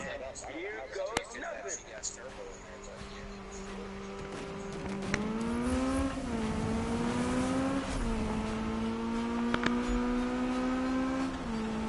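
A car with a loud aftermarket ricer exhaust and big turbo revs in the Need for Speed 2015 video game, engine pitch rising and falling in sweeping revs over a steady drone that grows louder midway.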